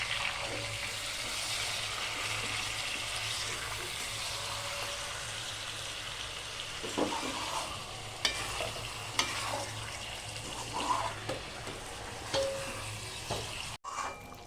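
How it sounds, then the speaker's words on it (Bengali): Chicken pieces for a North Bengal style curry slowly frying in a pan, a steady low sizzle with periodic stirring scrapes and a few louder clacks near the end, close and continuous with no talking. "মাংসটাকে এইভাবে আস্তে আস্তে কষিয়ে নিচ্ছি"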